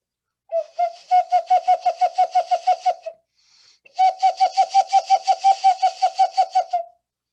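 A replica clay owl whistle blown in rapid, warbling pulses, two bursts of about a dozen trills each separated by a short pause, close and fairly loud.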